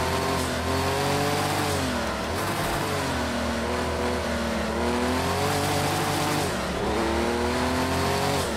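A racing car engine in the video game Project Cars 2 drones and shifts pitch continuously, with tires squealing in long whining streaks, no voices.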